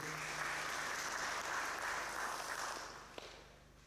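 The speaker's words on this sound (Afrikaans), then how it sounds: "kom ons gee ook vir hulle 'n hande klap" A church congregation applauds during a virtual Sunday service, a dense, steady wash of clapping that holds for a few seconds and then fades, fairly soft in the hall.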